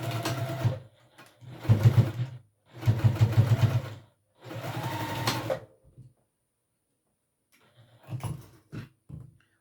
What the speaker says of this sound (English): I'm just going to top stitch right here on these sides just to make sure everything's put together